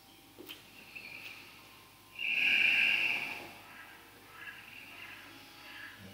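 Slow breathing during a vinyasa yoga session: a single long, soft exhale through the nose stands out in an otherwise quiet room, with fainter breaths around it.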